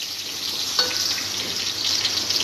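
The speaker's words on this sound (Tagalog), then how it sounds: "Gisa natin yung bawang, brown." Garlic sautéing in a hot pan until brown, a steady broadband sizzle holding close and even throughout with a small clink near the start and no talking.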